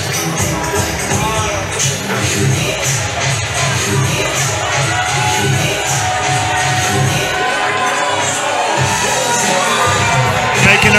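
A boxing event crowd roars as boxer Alex French makes her way to the ring in the red corner: a loud, sustained wall of cheering, whooping and shouting that continues unbroken and swells near the end.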